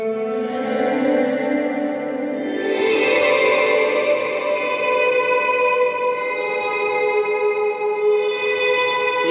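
A distorted guitar chord through an Eventide H9 reverse reverb swells in gradually after the pick attack and sustains with a washy, reversed-sounding bloom, then a new swell rises near the end.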